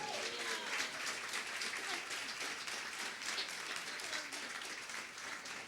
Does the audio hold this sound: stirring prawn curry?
no